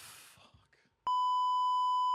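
A loud, steady censor bleep tone cuts in about halfway and holds to the end, following a stretch of quiet speech.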